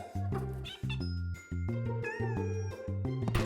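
A cartoon kitten stuck up in a tall tree meows over bright, bouncy children's music, its mewing high and plaintive above the tune.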